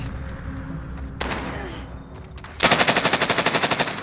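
Gunfire in Call of Duty Warzone: scattered single shots and thuds, then a loud, rapid automatic burst of evenly spaced rounds that carries to the end.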